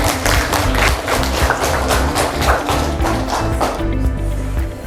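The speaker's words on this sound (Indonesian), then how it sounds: "tepuk tangan yang gemuruh untuk kita semuanya" A classroom group in an Indonesian academic coaching session claps enthusiastically, a dense, loud patter of hands with some rhythmic tapping and thuds running throughout before fading near the end.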